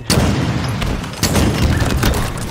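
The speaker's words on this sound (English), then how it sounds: "Explosions!" Explosions in a Halo-style first-person shooter match on the Salvation map, King of the Hill mode: loud, booming blasts with deep rumble, a sharp burst at the start and another strike about a second later amid rapid weapon fire.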